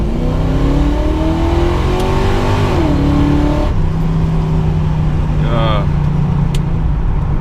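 A Camaro with a freshly built engine pulls hard from 30 to 60 mph, its loud close exhaust rising steadily in pitch, dipping briefly at a shift and climbing again, with a voice speaking over the roar.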